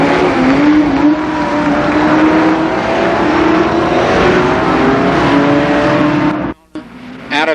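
Race cars roaring around Columbus Motor Speedway during a 12-lap heat race at the 1990 Nuckles Memorial, a loud continuous engine drone with shifting pitch as cars pass close, cutting off abruptly near the end.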